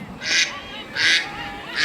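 Ducks serving as live pieces on an outdoor chessboard give three loud, raspy honking quacks spaced about a second apart, alone with no talk.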